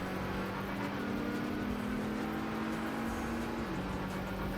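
Strained race car engine in a racing video game drones faintly at a steady, rough pitch, then dips slightly near the end, with no talk over it.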